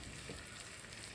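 Curry leaves sizzle in hot frying oil alongside frying fish, giving a brief, faint, steady crackle with no voices.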